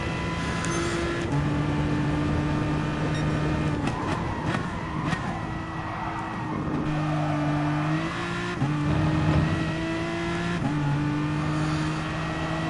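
Race cars during a race, a steady loud engine drone with sustained tones that shift in pitch as cars accelerate and pass, continuous throughout with brief sharper transients.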